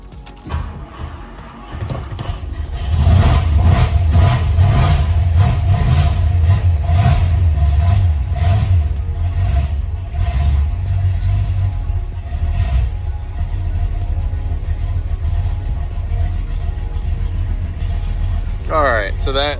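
A Mercury Montclair engine, fitted with a new ignition switch, cranks and fires up, then keeps running with a steady, loud idle and some clatter for the rest of the stretch. People talk over it.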